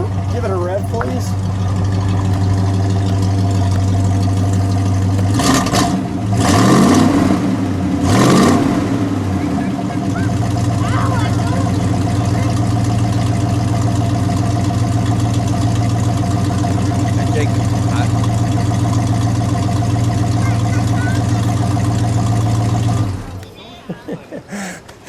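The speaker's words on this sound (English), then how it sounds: "Let's give it a rev" A 1966 Ford Fairlane 500XL with its 289 V8 idles with a deep rumble, then is revved in two sharp blips before dropping back to a steady idle that cuts off near the end; people talk nearby.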